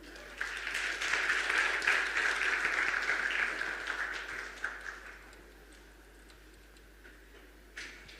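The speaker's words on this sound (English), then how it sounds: "put your hands together as you welcome on stage Mr." A festival audience applauds to welcome a speaker on stage, a dense crowd clapping that swells over the first few seconds and then thins into scattered claps before fading out.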